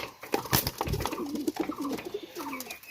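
Pakistani golden pigeons, a pair of young birds with their parents, coo in a close, steady run of soft, throaty calls with a few small rustles and wing movements around them.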